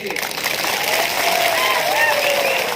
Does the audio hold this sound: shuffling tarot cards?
no